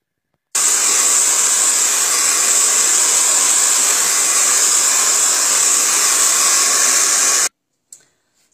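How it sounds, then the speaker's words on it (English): A hairdryer blows over freshly applied glaze, a loud, steady whooshing roar starting abruptly and running for about seven seconds before cutting off, followed by a faint clunk. "I'm going to dry this off with a hairdryer"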